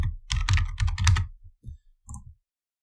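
Quick clatter of a computer keyboard as an email address is typed, a dense run of close keystrokes followed by a few separate taps before stopping, with no talking.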